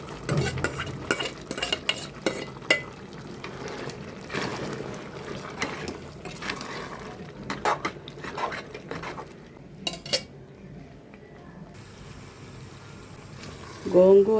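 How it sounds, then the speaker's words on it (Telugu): Gongura leaves are stirred into a frying boti curry, with steady scraping and clinking of a spoon against the pan over a soft sizzle, continuing for some time. "గోంగూర కూడా వేసేస్తున్నానండి."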